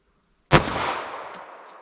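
A single close, sharp gunshot from a .45 ACP pistol firing Federal Gold Medal wadcutter ammunition, a loud crack followed by a decaying echo, with no voices.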